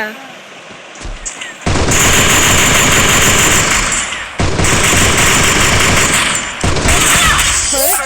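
Sustained loud gunfire in a shooter video game, dense rapid bursts with brief gaps, ending in a headshot, close and dominant.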